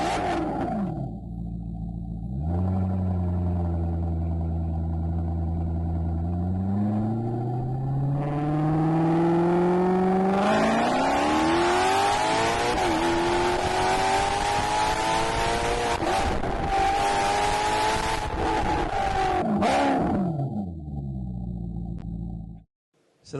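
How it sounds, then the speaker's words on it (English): Maserati MC12 sports car engine played through a Bowers & Wilkins speaker, idling then revving up in a long rising roar that climbs in pitch, holds at high revs and falls back before cutting off. "So that's actually a Maserati MC12."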